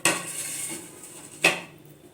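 Chopped onion, chilli, ginger and garlic tipped into a beetroot mixture in a bowl, heard as two sharp utensil clinks against the bowl about a second and a half apart, each fading quickly, with no talking.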